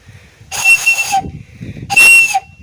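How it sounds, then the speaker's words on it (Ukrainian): Two loud, shrill blasts from a football fan's whistle about a second apart, each held for roughly half a second over quiet background rumble. "Це свисток футбольного фаната."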